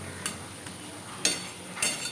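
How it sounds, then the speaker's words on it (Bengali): Fried lentil dumplings are stirred into a pumpkin-greens curry, giving four short spoon-against-pan scrapes at uneven intervals, close and fairly soft, with no talking. "ভাজা বড়িগুলো আমি মিশিয়ে দিলাম"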